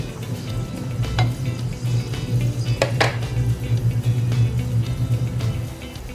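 Meat for sayote con carne sizzles steadily in a hot pan, a loud, continuous frying hiss with a low hum beneath it and a few sharp utensil clinks partway through.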